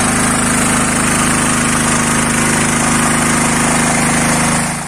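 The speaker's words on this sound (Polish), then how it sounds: "Nasze testy wykazały, że ten agregat wytwarza nieprzerwanie moc do 5500" A Dynamo DY-7500 power generator runs with a loud, steady mechanical drone and a constant buzzing hum, close by and unchanging until it fades slightly at the end.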